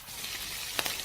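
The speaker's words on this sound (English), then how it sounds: "now we're going to add our cooked ham to the pan" Cooked ham fries in oil in a pan for a macaroni omelette, a steady, close hiss of sizzling with two brief spatters or stirring knocks near the end.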